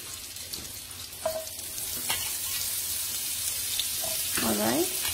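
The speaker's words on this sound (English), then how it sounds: "I'm adding butter." Butter sizzles and crackles gently in a hot pan, with a steady frying hiss running throughout and a few faint clinks and short background sounds breaking through.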